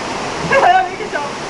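A water-ride boat runs through a waterfall, with a broad, roaring wash of falling water and excited voices rising over it.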